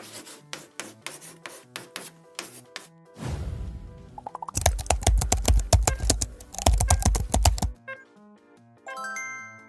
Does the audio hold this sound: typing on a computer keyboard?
yes